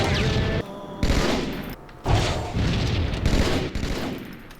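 Rocket launcher fire in the Halo 2 video game, a series of loud booming blasts and explosions in quick succession, several distinct bursts separated by short gaps, with no talking.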